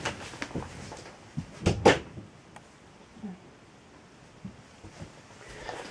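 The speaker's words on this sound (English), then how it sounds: "That's just my cat just trying to get through the door." A door rattles and knocks a few times as a cat tries to get through, with soft bumps and scratching around it, close by in a quiet room.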